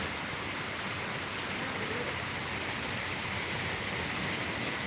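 A waterfall beside a temple hall in Chiang Mai gives a steady, dense rushing roar that fills the whole span without a break and stays loud and close.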